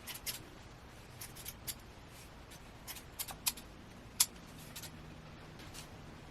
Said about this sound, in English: Before I do, I will cut a few layers in the front. So let's just cut this just a little bit